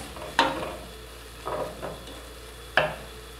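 A garlic and chili aderezo sizzles softly in a pan while a spoon scrapes and stirs it in three short, distinct strokes, close and fairly quiet.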